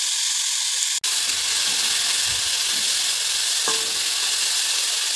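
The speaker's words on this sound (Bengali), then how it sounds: "কিছুক্ষণ এটাকে আমি ভালো করে নাড়িয়ে চাড়িয়ে ভেজে নেব, যতক্ষণ জলটা না শুকিয়েছে।" Indian pennywort (thankuni) leaves fry in a pan with a steady, loud, close sizzle and hiss while they are stirred to dry off their water, with occasional faint scrapes and no voices.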